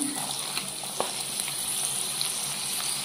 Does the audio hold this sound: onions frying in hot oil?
yes